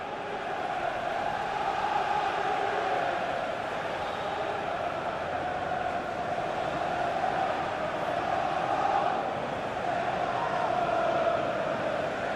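A large FIFA 16 video game stadium crowd at a Premier League match, Stoke versus Arsenal, roars and applauds at a steady, even level throughout, a dense wash of clapping and cheering with no clear breaks.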